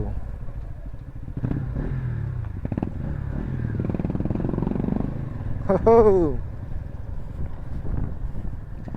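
Motorcycles ridden by a group of three on a village road in Nepal, a steady engine drone with wind buffeting throughout, a voice talking over it, and a brief rising whine near the middle.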